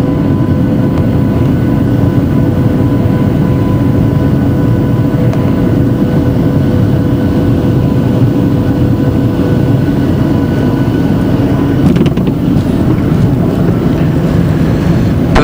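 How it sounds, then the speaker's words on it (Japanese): A passenger airplane landing at Weno in Chuuk, Micronesia, heard from inside the cabin as a loud, steady roar of engine and wind noise throughout, with a brief rise in rumble near the end and no talking. "いよいよ着陸でございます。"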